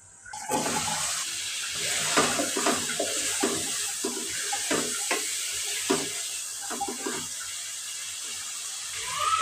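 Spice masala frying in a pan for a prawn and bottle gourd curry, a steady close sizzle with repeated scraping and stirring clatter throughout, no talking.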